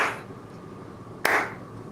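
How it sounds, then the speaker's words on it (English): A single sharp hand clap marking audio sync on a podcast set, one loud broadband crack standing out against quiet room tone, with no talking. "We got a clap for the audio."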